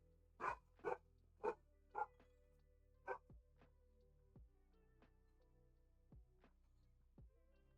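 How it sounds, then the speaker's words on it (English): Puppies barking at the postman: a burst of four sharp yaps followed by a single bark, then scattered softer yips and whimpers, faint and somewhat distant with no talk. "Those puppies, very upset the postman existed."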